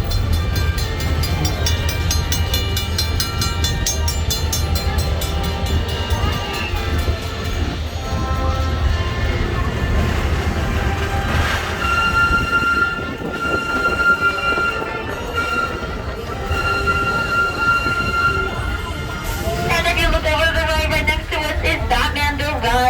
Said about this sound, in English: the train will be slowing down periodically throughout our trip